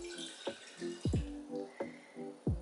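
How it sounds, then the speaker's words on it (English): Water trickles and drips into a Hawkins 1.5 litre pressure cooker in an irregular run of splashy plops and small gurgles, close and fairly quiet, with no voices. "Put 1 cup of water"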